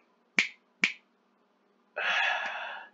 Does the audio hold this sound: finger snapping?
yes